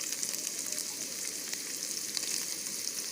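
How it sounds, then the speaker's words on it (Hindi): Carrots stir-frying in a pan after potatoes, a steady dense sizzle and crackle of hot oil filling the whole moment, close and continuous with no talking. "हमने आलू निकाल लिए हैं स्टीर फ्राई करके और अब हम गाजरें ऐड करेंगे"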